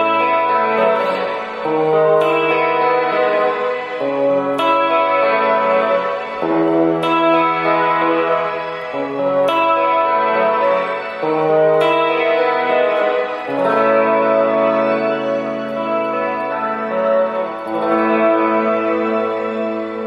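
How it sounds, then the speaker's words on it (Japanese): Electric guitar played through a desktop amp, either a Positive Grid Spark 40 or a NUX Mighty Space, with reverb added, strumming loud sustained chords that ring out and decay into a wash of echo. "これにちょっとリバーブ足してみましょうかね。"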